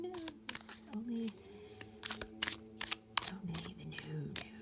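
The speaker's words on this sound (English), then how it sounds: "Let me get that a little shuffle for you guys, so you guys can see how that shuffles." A deck of tarot cards being shuffled by hand, with brisk riffling and flicking bursts in uneven clusters, close and moderately loud, some cards spilling out, over a steady low background hum.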